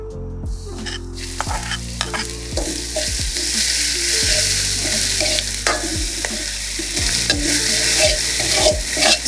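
Ginger hisses loudly in a hot pan for vegan mapo tofu, a constant close sizzle broken by repeated clinks and scrapes of a utensil against the metal as it's stirred.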